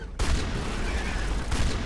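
Gunfire from the video game Mass Effect Legendary Edition, fought on Feros: a short, dense volley of shots that starts abruptly and swells again near the end, with other game sounds mixed in.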